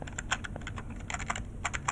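A computer keyboard is typed on steadily, rapid clicking keystrokes in quick irregular bursts, close and clear over faint room hum, with no talk.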